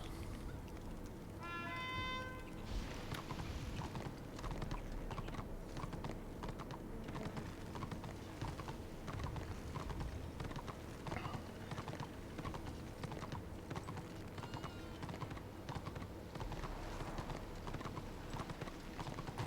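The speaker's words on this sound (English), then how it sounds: "Get on my horse." Horse hooves clop steadily in the Warhammer: Return of Reckoning online game, with a fast, even galloping rhythm that continues throughout at constant loudness over a dense bed of game ambience.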